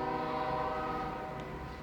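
A train passes at a distance, a faint low rumble with a steady tonal hum like a distant horn, heard quietly with no voices.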